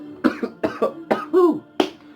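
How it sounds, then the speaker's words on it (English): A run of about five short, throaty coughs in quick succession, close up, with brief voiced catches between them. "need to cough"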